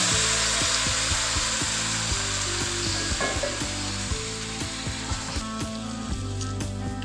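Boiled meat frying in a pot for biryani, a loud steady sizzle filling the background with soft scraping and stirring knocks on top, close and continuous without talk.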